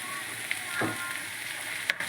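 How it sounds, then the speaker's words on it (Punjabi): Lentils (dal) dry-roasting in a pan give a steady, soft sizzling hiss, with a couple of faint clicks as they are stirred. "ਦਾਲ ਨੂੰ ਆਪਾਂ ਚੰਗੀ ਤਰ੍ਹਾਂ ਭੁੰਨ ਲਵਾਂਗੇ"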